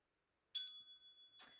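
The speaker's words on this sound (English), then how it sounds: "let's call in spirit with a little bit of wind chime time." A wind chime rings out with bright, sustained metallic tones, one strike lingering before a second softer touch, clear and alone in quiet surroundings.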